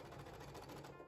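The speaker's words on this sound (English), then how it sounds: "So now I'm gonna start sewing" A sewing machine stitching rows of quilt pieces in a rapid, even mechanical rhythm, close and steady for a brief moment with no talking.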